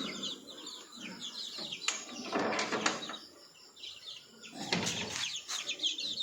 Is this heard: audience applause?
no